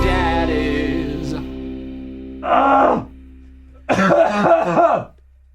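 A man clears his throat twice in close succession, two harsh, raspy bursts following a fading tonal hum.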